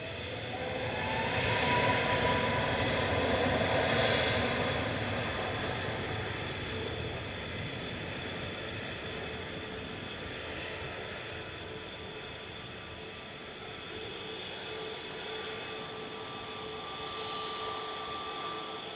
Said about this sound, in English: That was Ryanair 4027 to Alicante, EIIJY, just about to lift off any moment. That's a Max 8 200.